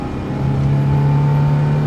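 The engine of a Peugeot 204 revs at full throttle in second gear, a steady, loud, droning hum that builds slightly over a couple of seconds, heard from inside the car.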